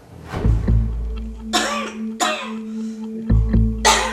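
A persistent dry cough, not from a cold, comes as several harsh separate bursts with throat clearing between them, close and loud.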